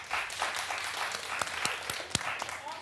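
Studio audience on a daytime talk show claps to vote yes, a dense burst of applause with a few sharp, distinct claps standing out near the front, steady throughout the short stretch.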